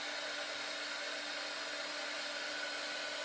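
A hair dryer blows continuously at a steady pitch, drying shaving foam on a handmade card, a constant close airy roar with no talk.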